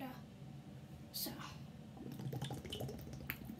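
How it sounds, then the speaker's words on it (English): Water being squirted and emptied out of a plastic spray bottle, faint and close, with a short hissing burst followed by a run of small splashes and drips. "I'm gonna empty out my spray bottle because this water is from Orlando"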